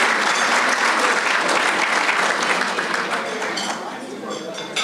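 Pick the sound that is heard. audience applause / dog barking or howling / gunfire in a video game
audience applause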